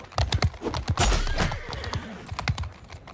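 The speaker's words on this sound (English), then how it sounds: "At this point, I'm just butchering horses." Horses gallop and neigh in the medieval battle game Mount and Blade II Bannerlord, with rapid hoof clip-clops and a loud whinny in the middle, amid close clattering combat noise.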